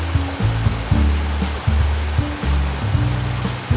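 Cool, clear water flows steadily in a forest stream, giving a constant loud rushing hiss, with low rumbling bumps that come and go underneath.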